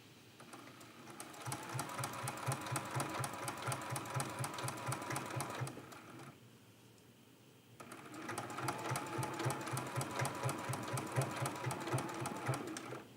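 A sewing machine stitches quilt pieces with a rapid, rhythmic mechanical chatter, heard close and fairly quiet; it runs in two long bursts separated by a brief pause of about a second and a half.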